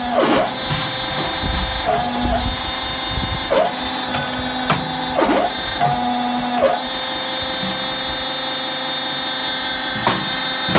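Electric motor-driven log splitter working firewood, a steady mechanical motor hum broken by repeated heavy splitting strokes and clunks, with someone talking faintly in the background.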